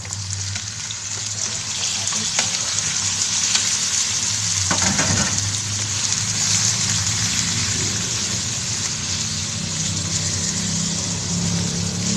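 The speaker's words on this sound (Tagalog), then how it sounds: "So, hulog na po natin ang ating pork." Pork sizzles and fries in a pan, with a steady, loud, close hiss of hot oil running throughout and a few clatters of something dropping into the pan.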